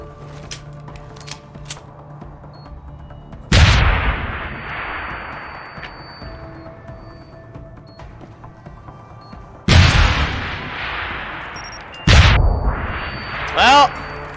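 Mines detonate in Deus Ex: Human Revolution as sharp, loud blasts that decay slowly, one early and then two more close together near the end, over a low background of game ambience.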